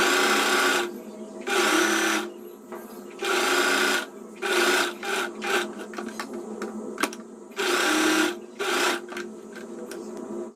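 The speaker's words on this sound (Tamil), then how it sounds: "ஸோ இப்போ மேலே மட்டும் வந்து ஒரு ஸ்டிச் பண்ணிட்டோம்" A sewing machine stitches blouse main fabric and lining together in repeated close bursts of rapid whirring, separated by short pauses and lighter handling noises.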